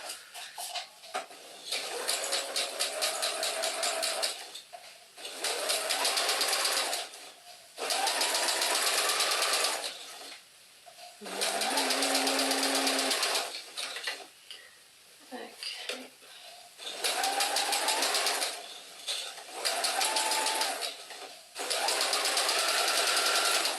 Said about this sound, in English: So yes, I'm going to use my edge stitch foot here.